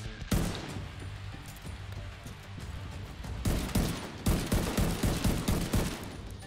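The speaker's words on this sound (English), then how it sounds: "Is that you shooting?" Rapid bursts of video game gunfire crackle in dense volleys, dropping off briefly and then returning in a louder run of repeated shots, with no talk over them.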